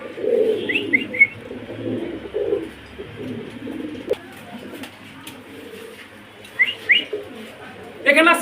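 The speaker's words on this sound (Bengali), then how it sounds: "এখানে আছে একজোড়া আমেরিকান সেন্ট, রানিং কবুতর।" A pair of American pigeons coos in soft, rolling phrases that come and go, with a few brighter chirps and quiet background voices between the calls.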